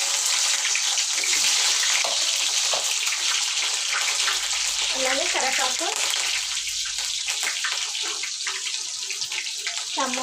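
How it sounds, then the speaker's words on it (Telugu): Onions hit hot oil for an aloo curry with a loud, steady sizzle and hiss that holds throughout, close up, while a voice talks quietly beneath it. "నూనె అయితే బాగా వేడి అయింది అలాగే ఉల్లిగడ్డ"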